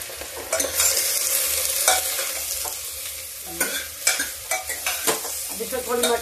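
Mixed vegetables are stirred and fried in a pan, a soft oily sizzle running underneath while a spoon scrapes and clacks against the metal in irregular bursts, close by, with no talking.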